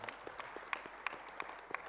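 Sparse, faint claps from a small audience at a FICCI Frames 2024 event, scattered and irregular rather than a full ovation, with no one speaking.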